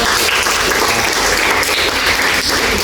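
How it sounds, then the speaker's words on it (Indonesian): Class applause at the end of a coding lesson, continuous dense clapping from a roomful of people, loud and steady throughout. "Tepuk tangan buat semuanya"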